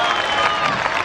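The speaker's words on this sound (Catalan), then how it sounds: "un aplaudiment per l'Héctor, que té les idees clares." An audience at a school cantata applauds a pupil, a dense, steady wash of many hands clapping with faint voices and cheering mixed in, loud and close throughout.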